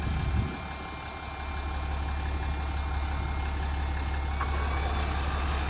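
Hydraulic crane on a 2018 Ram 5500 crew cab 4WD with a Cummins diesel and 168k miles, electric-over-hydraulic with 3200 lb capacity, running steadily under a continuous low engine drone with no pauses.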